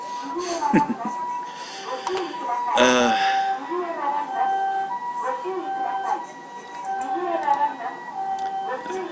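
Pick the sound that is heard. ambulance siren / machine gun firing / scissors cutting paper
ambulance siren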